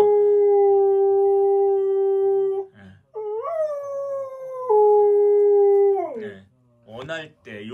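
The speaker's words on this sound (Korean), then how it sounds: "얘는 짖는 거 대신 하울링을 하고 있는 거고요" A dog at a behaviour-correction training school howls instead of barking, giving long sustained wavering howls close by, then a rising howl, with brief whimpering yips at the end.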